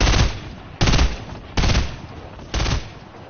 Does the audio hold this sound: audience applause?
no